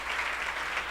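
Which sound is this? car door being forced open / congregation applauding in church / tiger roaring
congregation applauding in church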